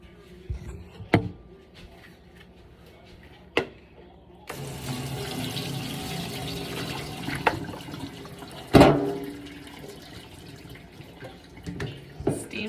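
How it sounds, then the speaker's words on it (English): Cooked noodles are drained into a kitchen sink, with a rush of pouring water and a sharp metallic clank among scattered knocks and splashes, fairly close and moderately loud. "Time to drain the noodles."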